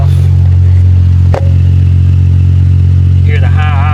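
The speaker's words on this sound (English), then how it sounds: "Hear the high idle." A warm engine runs at a steady high idle, a constant low drone with a brief clatter partway through, and a voice briefly speaks at the end.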